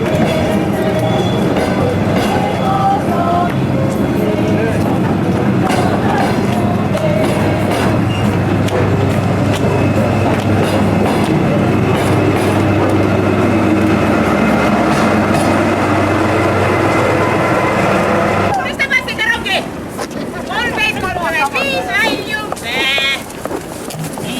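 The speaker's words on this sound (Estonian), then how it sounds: "Rongi kuulen, nõnda kiirelt" Passenger train pulling away from the station at Haapsalu, Estonia, with a steady loud rumble of wheels and railcars that lasts most of the clip, then a sudden shift to clattering and higher squealing sounds near the end.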